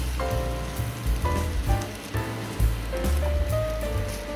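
Food stir-fried in a pan sizzles and crackles steadily, close and fairly loud, with soft thuds from the pan or spatula scattered through it and no voices.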